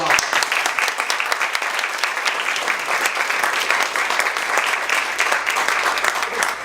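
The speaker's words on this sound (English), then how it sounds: "Let's have a big round of applause for Hrag." A big round of audience applause for a speaker at a panel event, steady dense clapping heard up close and loud throughout, with no talking over it.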